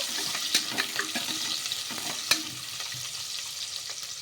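Thinly sliced onions frying in a pan, a soft steady sizzle broken by a few sharp spatula clicks and scrapes as they are stirred, close and fairly quiet with no speech.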